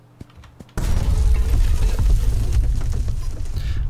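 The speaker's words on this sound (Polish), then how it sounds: "Uwaga, wybucha." In the video game Eternity: The Last Unicorn, a sudden loud explosion bursts after a few quiet clicks, followed by rumbling and scattered crashing debris.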